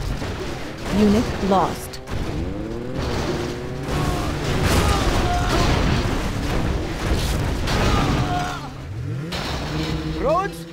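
Rocket barrage explosions from Command & Conquer Generals Zero Hour, a steady rumble of booms and blasts over mechanical battle noise, with game voice lines spoken over the din.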